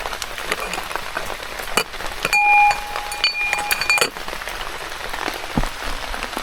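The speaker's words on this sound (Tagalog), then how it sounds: "bumuhos na ang malakas na ulan" Heavy rain pours onto surfaces in a forest campsite, a steady dense patter with scattered sharp drips and a few clinking taps, close and continuous.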